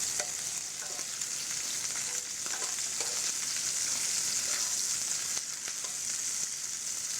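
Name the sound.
black tiger prawns searing in a pan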